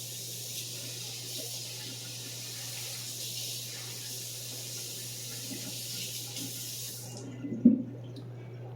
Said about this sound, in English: Let me rinse this off here.